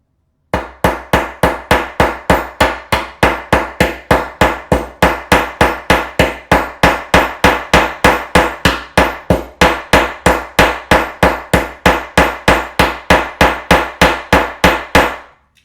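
Rapid, steady hammering on a leather wallet with the striking face of a metal tool, dozens of sharp, loud, evenly spaced blows running without pause, with no talking.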